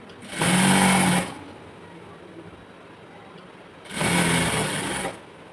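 Two bursts of a sewing machine stitching, each about a second long, run a half-inch folded elastic casing along the waist of a palazzo, with a quiet pause between them and no talk.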